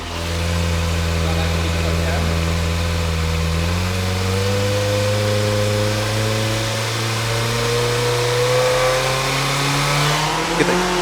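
A Kawasaki ZX25RR motorcycle engine with stock exhaust, idling steadily and then revving up gradually with rising, sustained engine tones, loud and close throughout.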